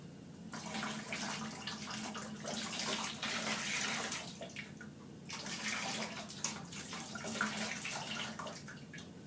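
Liquid ceramic glaze pours steadily into a coil-built clay pot, a close, continuous wet splashing and trickling that swells and eases over several seconds.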